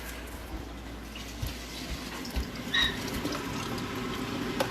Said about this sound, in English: And then I go right in and add my chicken stock to stop it from going too far.